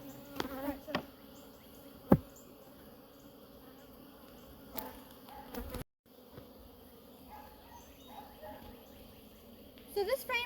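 Honey bees buzz in a continuous drone while a hive is being split, with a person talking over the hum and occasional sharp knocks and handling noises.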